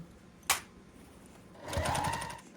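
A sewing machine stitches a fabric basket with foam stabilizer. A sharp click comes first, then a short burst of fast motor stitching close by.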